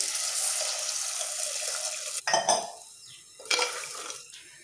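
Water is poured into a pan of sautéed base for a Tamil spicy kara kuzhambu curry, in two short splashy pours over a steady background hiss with no talking.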